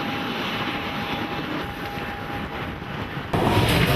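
A Ryanair airliner at Figari airport in southern Corsica gives a steady, loud engine roar with a faint whine, which swells abruptly near the end.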